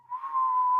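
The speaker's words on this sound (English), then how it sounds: "there's that whistle" A window whistles at Christmas with one steady, clear, high tone that swells slightly and holds for under a second, alone and fairly quiet.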